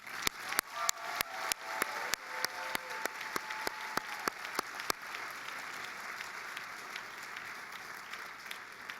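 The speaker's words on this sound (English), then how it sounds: "So join me now in thanking them with a round of applause." Sharp, distinct claps ring out at a college commencement ceremony, starting as separate hand claps and merging into a steady wash of audience applause that continues to the end.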